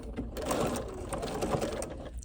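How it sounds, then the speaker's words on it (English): A sewing machine stitches down the center seam of a fabric wristlet pincushion, with a steady, fast mechanical whirr running continuously at moderate, close-up volume. "And I'm gonna sew down the center seam"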